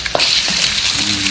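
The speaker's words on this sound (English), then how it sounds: "And after that, we just crack the egg in" An egg cracked into a hot wok of oil for pad thai sizzles loudly and continuously, with a small tap at the start and soft stirring clatter underneath.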